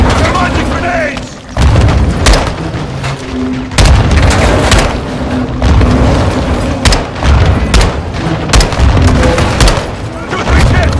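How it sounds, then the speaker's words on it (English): Repeated loud grenade-launcher blasts and booming explosions in a Call of Duty: Modern Warfare II battle, a string of heavy impacts over several seconds with shouting voices in between. "Incoming! Take cover! They're launching grenades!"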